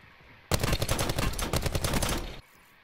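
Sustained automatic gunfire in the video game Call of Duty Blackout, a loud rapid burst of shots running for about two seconds, then cutting off to quiet.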